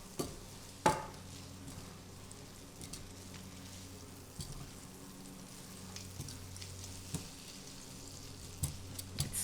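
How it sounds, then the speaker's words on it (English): Chipped beef sizzles softly in butter while being tossed in a pan. There is a sharp clank near the start and scattered light scrapes and taps over a low, steady frying hiss. No one speaks. "let's toss around our chip beef to get it coated in the butter and just lightly cooked"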